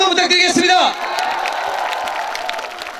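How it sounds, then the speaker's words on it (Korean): Audience at a Korean singer's outdoor concert during a provincial sports festival, with a voice calling out over the start before clapping and cheering carry on as a steady crowd wash. "다시 한번 여러분 박수 한번 부탁드리겠습니다."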